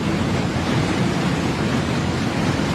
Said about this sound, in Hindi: व्यास नदी के उफान में छुपे खतरे को महसूस कीजिए।